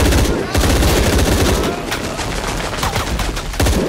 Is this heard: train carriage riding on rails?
no